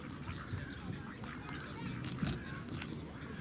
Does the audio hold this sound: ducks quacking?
yes